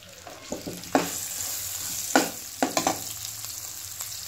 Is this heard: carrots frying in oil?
yes